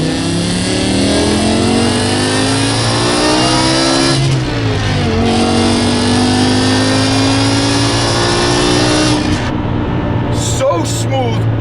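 A 2008 BMW E60 M5 with a manual gearbox and V10 engine revs smoothly and loudly, its pitch climbing steadily toward the top of the range, easing briefly and rising again before dropping off near the end.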